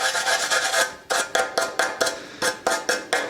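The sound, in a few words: die grinder grinding an aluminum car wheel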